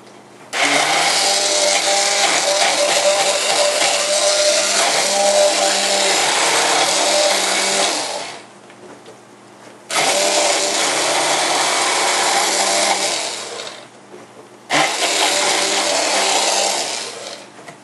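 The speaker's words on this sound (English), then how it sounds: "this is the same blender that I use for soap making" A loud blender used for soap making whirs in three long runs through chunky soap, stopping briefly between each, with a steady grinding motor roar and no talking.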